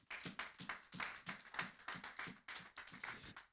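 A church congregation claps together in praise during a sermon, a dense, roughly steady rhythm of many hands repeating about three times per second, close and lively with no talking.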